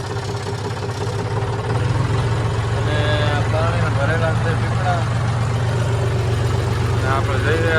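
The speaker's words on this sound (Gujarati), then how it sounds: "આપણે ટ્રેક્ટર લઈને જઈ રહ્યા છીએ" A tractor engine drones steadily while driving along, a loud low rumbling hum that holds constant throughout, with people talking over it.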